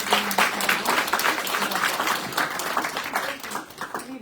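Sustained audience applause for a panel of Indigenous women at a climate justice event, a dense wash of many clapping hands filling the room at steady loudness, with faint voices mixed in.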